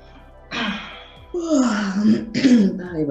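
A few throaty coughs and throat-clearing sounds, close by, with breathy voice in between.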